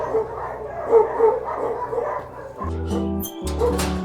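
A dog at an animal shelter in Erbil barks and whines close by in a few short, tonal bursts, growing louder toward the end.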